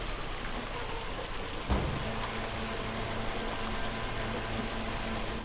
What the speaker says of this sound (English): It's kind of loud, that rain, isn't it?